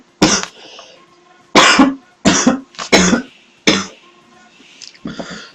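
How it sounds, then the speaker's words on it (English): A sick person coughing, about six harsh, loud bursts at close range, spaced unevenly with short pauses between them and no talk. "Sorry about the coughing"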